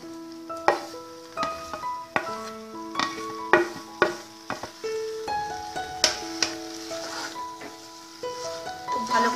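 Raw jackfruit and prawns are stirred in a pan, with soft sizzling and repeated scraping clicks, while plucked melodic music plays prominently over them.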